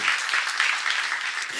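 A church congregation claps steadily for a moment during a sermon, a dense patter of hands at moderate volume with no voices on top.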